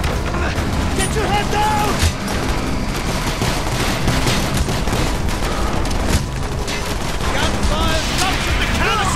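Dense gunfire in the video game Call of Duty Black Ops, rapid bursts and heavy booms layered continuously, with a loud voice shouting over the firefight.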